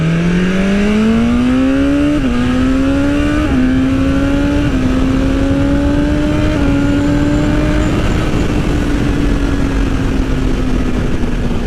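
A 2020 BMW S1000RR motorcycle with a stage 1 ECU flash accelerates hard, its loud close engine whine climbing in pitch through several quick upshifts, each marked by a brief dip, then holding a high steady roar.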